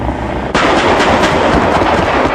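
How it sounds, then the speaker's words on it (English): Salvo of Bofors 40mm L70 3P programmable rounds fired from a moving CV9040 combat vehicle: a sudden sharp onset followed by dense, sustained rumbling gunfire that stays loud for two seconds. "Finally, a salvo of 3P rounds from a moving vehicle against the ATGW squad target."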